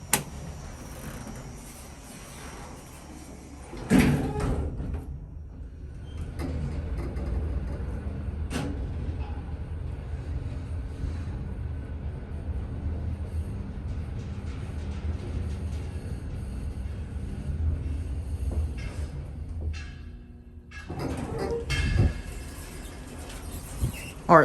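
An old Otis traction elevator in a downtown Houston parking garage, heard with a door clunk at the start, then a long steady low hum and rumble while the car rides, and another door thump and rattle near the end.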